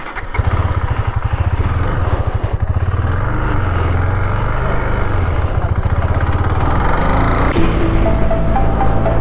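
A KTM Duke 390 BS6 motorcycle engine runs loud and close throughout, a steady throbbing single-cylinder thrum that rises as the bike pulls off on a ride, with no talk.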